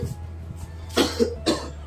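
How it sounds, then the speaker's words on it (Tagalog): Two or three harsh coughs close to the microphone in quick succession, over a low background hum. "Inuubo na po siya"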